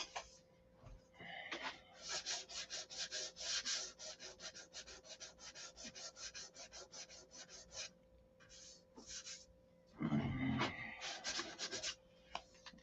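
Sandpaper rubbed by hand over a sealed wooden model airplane, a Sig Magnum, in quick, rhythmic rasping strokes up close, with a brief pause and a louder burst of scrubbing near the end.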